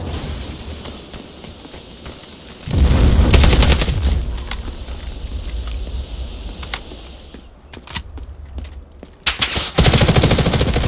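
Rapid automatic gunfire in the shooter Delta Force Hawk Ops rattles loudly in sustained bursts, easing to scattered shots and then erupting again near the end.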